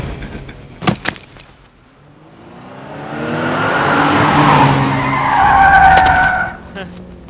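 A car's tires skid and squeal in a drawn-out screech that swells over several seconds and then fades. A few sharp clacks come just before it.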